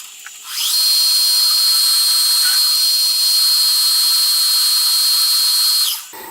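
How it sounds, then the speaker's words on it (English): A number 30 drill bores a 5BA clearance hole for a Stuart Turner Number 8 mill engine build, a steady high whine running for about five seconds before spinning down, close and loud. "it's going to change out my drill now for the 5BA clearance hole, which is the number 30"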